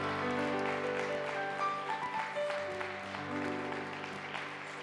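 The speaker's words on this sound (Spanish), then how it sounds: "Den un aplauso al Rey, por favor." A church congregation claps during a Spanish-language service, a sustained patter of applause mixed with organ or keyboard tones that slowly fades.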